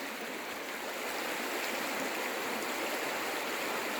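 Marcola River flowing steadily at Shotgun Creek recreational area, a continuous broadband rushing and babbling of water heard up close at moderate level, with no voices.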